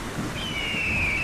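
Cartoon thunderstorm with steady rain hissing and a low rumble beneath it, plus a thin sustained tone drifting across, continuous and fairly loud for just over a second.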